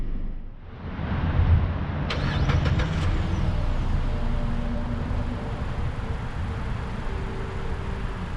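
A 2021 Mazda CX-9 Signature AWD starting up at the push of a button: a few quick clicks, a brief cranking rise, then a steady idle hum from inside the car, with no talking.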